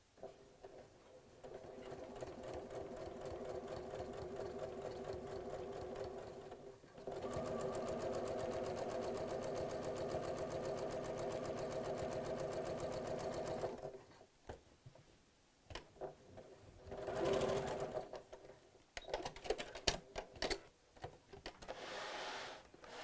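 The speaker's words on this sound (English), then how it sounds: "stop, turn around with the needle down, do 1 stitch, lift the foot up, needle down, and then carry on sewing" A sewing machine stitches a cushion cover in steady, fast runs, with a short pause between two long continuous stretches and then a few choppier bursts and handling noises near the end.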